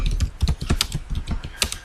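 Rapid typing on a computer keyboard, a steady run of close, crisp key clicks with uneven rhythm and a few heavier strokes, with no voice.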